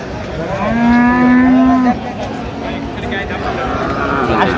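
Cattle at a livestock market: one loud, close, drawn-out moo followed by quieter lowing and a steady crowd murmur.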